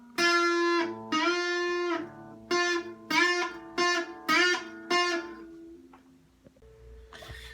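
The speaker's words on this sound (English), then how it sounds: "I'm going to have to bend the string up like this." Several plucked electric guitar notes, each bent upward in pitch, played in short separated phrases with brief pauses between them.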